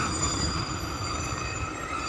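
A Class 151 diesel train sits at Castleton station with a steady low engine rumble and a faint tonal hum, continuous and close throughout.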